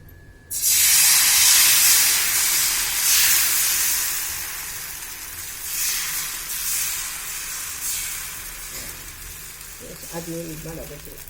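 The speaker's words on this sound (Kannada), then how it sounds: "ತವಾ ಬಿಸಿ ಆದಮೇಲೆ ಎಣ್ಣೆ ಹಾಕ್ದಿರ ದೋಸೆ ಹುಯ್ಬೇಕು." Fresh coconut dosa batter hitting a hot tawa with no oil, a sudden loud hiss that bursts in and slowly fades to a softer steady sizzle, with a brief voice near the end.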